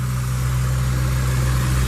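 A 2016 Subaru Crosstrek's 2.0-litre flat boxer four-cylinder engine runs at a steady idle, a loud, even, low rumble recorded close up with no voices.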